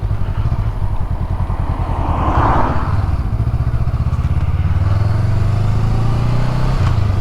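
A Honda Rebel motorcycle engine runs steadily with a low, throbbing rumble, close and loud, no voices over it.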